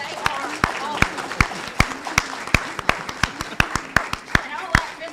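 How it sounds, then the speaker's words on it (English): An audience at a school board meeting claps for students, sharp distinct individual claps ringing out at a brisk, uneven rhythm from a small group nearby, over a low room murmur. "So give them a round of applause because they are awesome."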